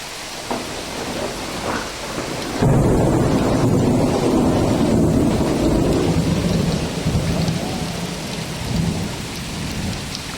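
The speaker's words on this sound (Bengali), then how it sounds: "এই বৃষ্টিতে ভিজিস না কোনো।" Heavy rain pours down with rolling thunder, a loud continuous wash of rainfall that swells into a deep, sustained rumble and then eases slightly, with some wind buffeting on the microphone.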